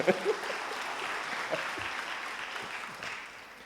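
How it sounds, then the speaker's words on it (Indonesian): A short burst of audience applause at a corporate talk, steady massed clapping from a nearby crowd that tapers slightly as it ends. "Nah, tepuk tangan buat HC Director saya."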